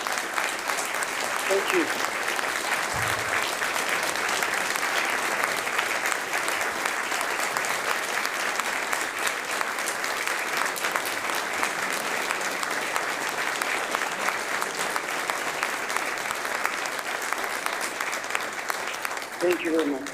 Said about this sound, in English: Zeynep, ils sont tous debout à t'applaudir.